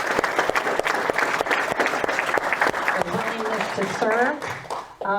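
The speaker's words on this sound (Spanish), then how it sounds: "Un aplauso a todos, por favor" Audience applause at a school board candidate forum, dense, close clapping from a seated crowd that fades as voices and chatter rise over it near the end.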